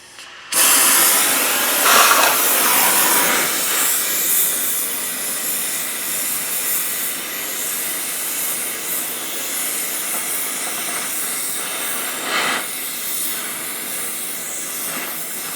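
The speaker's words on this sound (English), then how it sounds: "let's use the bigger torch" A large blowtorch hisses steadily and loudly while heating a part of a damaged Td5 gearbox, a continuous roaring rush of gas that lasts throughout with only slight swells.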